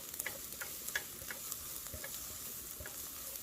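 Two spoonfuls of garlic stir-fry in perilla oil in a pan, a quiet steady sizzle with light scattered crackles and ticks, close and without any talk.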